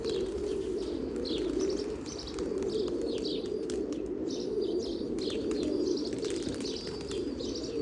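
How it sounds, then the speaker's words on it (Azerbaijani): Sparrows chirping steadily outdoors on a holiday, a dense chorus of small bird calls over low cooing pigeons and a constant background hum, with no voices. "Sərçələrin səsi götürmüşəm."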